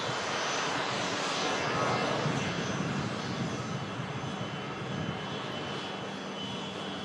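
An easyJet jet airliner departing Manchester Airport gives off a sustained, broad engine roar at moderate distance, swelling slightly early on and then easing gradually.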